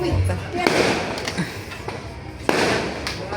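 Fireworks go off at a barangay fiesta, with a few sharp bangs and crackling bursts at middle distance under a steady crowd murmur, while people talk nearby.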